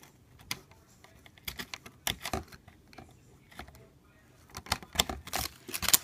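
Plastic retaining clips being popped loose to free the keyboard of an HP Compaq NC4200 laptop: a scattered series of sharp, close clicks and snaps with short pauses between them, rising into a busier cluster near the end.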